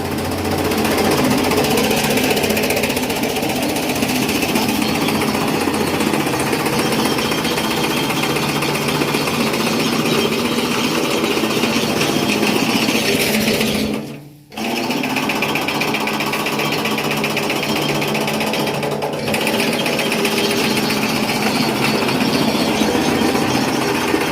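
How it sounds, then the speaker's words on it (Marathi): A chaff cutter machine runs loudly and continuously on a farm with a rapid mechanical chatter, briefly dipping once before resuming at full noise. "एकदम व्यवस्थित प्रकारे मशीनची सेटिंग झालेली आहे"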